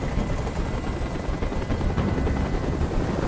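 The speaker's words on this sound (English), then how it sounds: "Tell that helicopter to get out of here." A helicopter hovers in the video game Detroit: Become Human, a dense, constant rotor roar and wash filling the whole stretch without pause.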